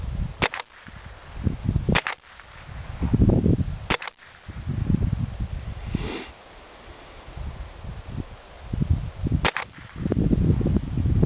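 Sharp reports from a .22 survival pack gun fired left-handed at a target outdoors, several loud close cracks spaced a few seconds apart with breathy handling noise between them.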